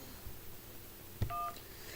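A short burst of telephone keypad DTMF tones, a couple of quick beeps right after a faint click, standing alone over a quiet line hiss.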